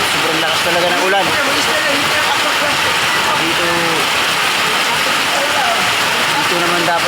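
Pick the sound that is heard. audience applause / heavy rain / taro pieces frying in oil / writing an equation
heavy rain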